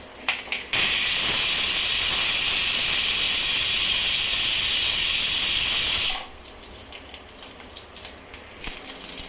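A pressure cooker on a gas stove lets out one long, loud continuous whistle of escaping steam lasting several seconds, then cuts off, leaving faint kitchen noise and light clatter.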